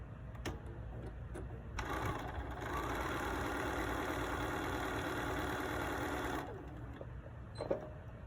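A sewing machine sews a quarter-inch seam on quilting fabric for a pillow, a steady mid-speed mechanical whir lasting several seconds, framed by quieter clicks and handling noise before and after.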